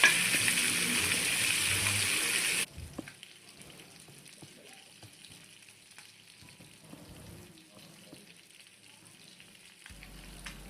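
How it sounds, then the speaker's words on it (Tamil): Jilebi fish fry in hot oil with a loud, dense sizzle for almost three seconds, which then drops to a faint, steady crackle with occasional small pops. No voices are heard. "மீன் நல்லா வெந்துச்சு நல்லா ஃப்ரை ஆயிடுச்சு"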